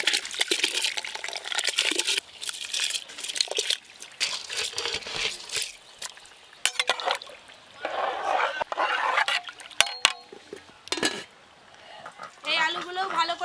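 Rice poured into heated water in a pot for chicken biryani, with splashy pouring, clinks of utensils and rustling in irregular bursts, fairly close and intermittent.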